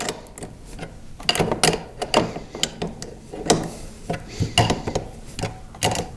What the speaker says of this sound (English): you want to use your 3/4 inch wrench, turning clockwise, and firmly tighten each of the bolts to the L bracket